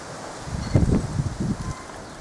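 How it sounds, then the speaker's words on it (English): Gusty wind buffets an outdoor microphone near Natal plum shrubs, low rumbling bursts rising and falling for about two seconds with faint rustling. "Hope that wind isn't spoiling my video."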